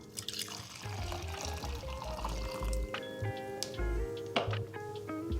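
About 200 ml of hot water is poured into a cocktail shaker for taro milk tea, a continuous close splashing stream with gurgling, ringing resonance that rises in pitch as the shaker fills.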